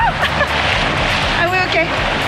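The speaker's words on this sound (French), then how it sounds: "Elles sont énormes les vagues." Huge surf crashes on a Boa Vista beach under red-flag conditions, a close, loud roar of breaking water with a person talking excitedly over it.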